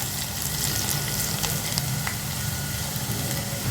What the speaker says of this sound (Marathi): लसूण परतून घ्यायचा